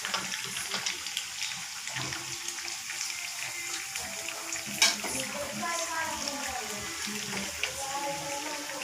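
Aloo patties frying in a pan give a steady close sizzle and crackle with faint scraping, one sharp clink midway.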